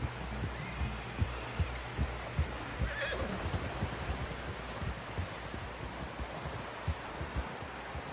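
Horse in Red Dead Redemption 2, with a whinny over a steady run of close, rhythmic hoof thuds and a dense rumbling game bed throughout, with no talking.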